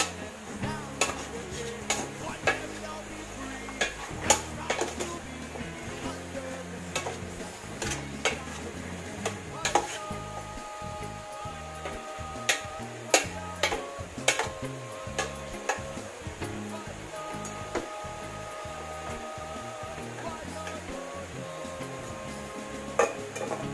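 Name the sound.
stirring chicken sautéing in a pan for tinola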